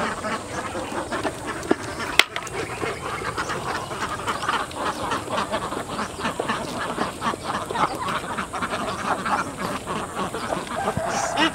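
A flock of ducks in a pen in the Vietnamese countryside quacks constantly at close range, a dense and busy chorus that never lets up.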